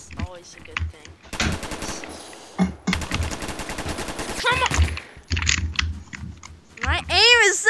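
Rapid automatic gunfire from the first-person shooter game Phantom Forces, loud bursts of rattling shots near the start and middle, with a player's voice talking over the action.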